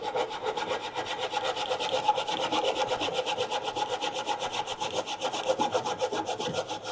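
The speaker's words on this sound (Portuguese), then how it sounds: "Vou cortar aqui com o serrote para mostrar de uma maneira bem simples que é possível se fazer." A handsaw cuts a small wooden wedge, giving a fast, steady back-and-forth rasp of strokes that carries on close and loud throughout without pause.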